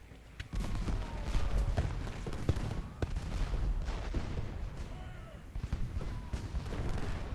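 Cannon fire booms and rumbles in the Civil War strategy game Ultimate General: Gettysburg, with repeated overlapping artillery blasts and distant musketry under a voice.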